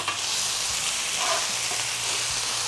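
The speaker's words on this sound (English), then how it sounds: "Let's stir your sausage up." Sausage sizzles steadily in a frying pan while being stirred and flipped, a close, continuous crackle with faint scraping and no talk.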